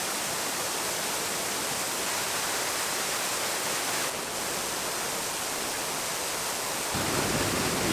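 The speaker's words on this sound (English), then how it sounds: "the waterfall is going strong" A strong waterfall pours over a lagoon in winter, a steady loud broadband rush that runs unbroken throughout and swells slightly louder near the end.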